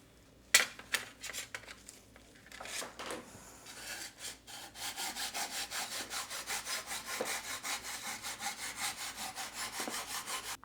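A slicing machine cuts deer meat into thin strips for jerky. After a few scattered scrapes, a steady, rhythmic rasping stroke sets in and repeats quickly and evenly, sounding close and moderately quiet.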